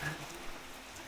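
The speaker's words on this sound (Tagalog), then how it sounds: "Lumakas yung ulan." Heavy rain falls steadily, a soft even hiss of drops hitting surfaces, heard briefly and fairly faint with no talking.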